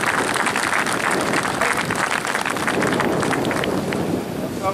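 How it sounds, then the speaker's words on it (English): Audience at the NorCal Premier Coaching Symposium 2017 gives a loud round of applause: dense, continuous clapping from a crowd that stays strong throughout and eases slightly at the end. "give them a loud round of applause"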